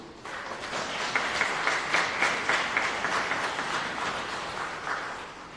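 A crowd at a credit union annual general meeting applauds, a sustained, moderately loud roar of clapping that swells slightly and holds steady, with no speech over it.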